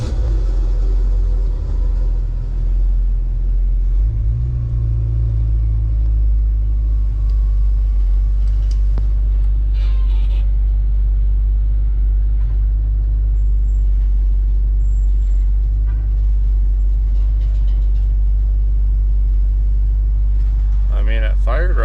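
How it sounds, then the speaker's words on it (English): A 1966 Ford Mustang with Sniper EFI fires up warm and settles into a steady, loud, deep idle rumble that runs continuously close by. "here's the first warm start today"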